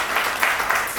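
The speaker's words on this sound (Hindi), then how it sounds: "एक बार तालियां इस बात के लिए हो जानी चाहिए" Brief burst of audience clapping at a Hindi poetry gathering, a short dense patter of applause with no voices.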